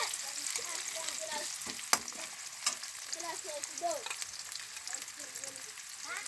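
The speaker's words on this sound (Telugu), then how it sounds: "బాగా వేగించుకుంటున్నాము." Mustard seeds and onions fry in hot oil as the masala base for a mutton curry, giving a steady close sizzle with stirring scrapes and occasional seed pops.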